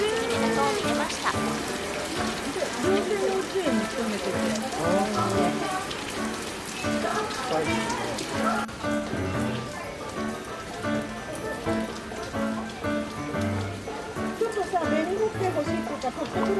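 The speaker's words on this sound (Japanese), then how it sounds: "途中から雨が降ってきました。" Continuous rain drums on a tent at an outdoor medaka fish event as a typhoon approaches, a steady dense patter heard under ongoing talk and crowd murmur.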